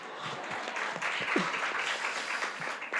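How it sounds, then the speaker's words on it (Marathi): An audience claps in a steady, moderately loud round of applause with a few individual claps standing out, and a brief voice surfaces partway through. "तिच्यासाठी जोरदार टाळ्या."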